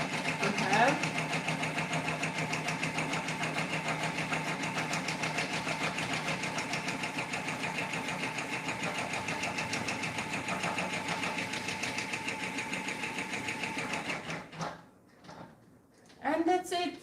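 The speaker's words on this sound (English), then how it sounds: "The final stitches are being done right now." A sewing machine runs steadily through the final stitches of an Easter bunny lovey, a loud rapid mechanical whir for about fourteen seconds before it stops, with a short burst of stitching at the end.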